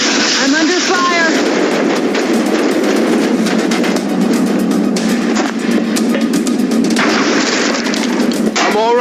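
Gunfire in the XCOM: Enemy Unknown tactical alien war game on Android: dense, sustained bursts of shots and explosive blasts rolling continuously, loud and close, with a voice briefly heard amid the barrage.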